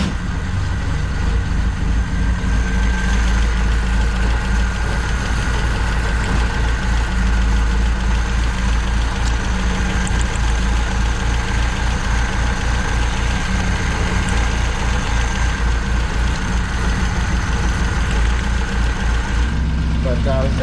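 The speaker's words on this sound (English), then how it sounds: "We still got that ticking noise," Saab Sonett engine running at idle with a persistent ticking noise, a steady mid-low hum with faint rapid ticks throughout, recorded close with someone speaking over it.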